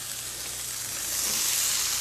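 Tomatoes sizzling in a hot frying pan: a continuous crackling hiss that swells slightly louder partway through.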